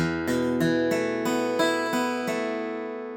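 Guitar notes of a song's intro picked one after another across the strings, ringing together into a sustained chord that slowly fades, evenly paced and unaccompanied.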